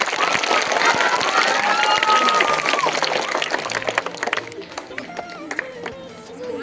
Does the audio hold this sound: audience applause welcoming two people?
yes